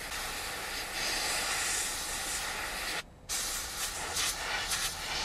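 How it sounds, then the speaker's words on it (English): An airbrush sprays dust-coloured paint onto diorama masonry, making a close, loud, continuous hiss that stops briefly and then resumes. "add some dust with your airbrush"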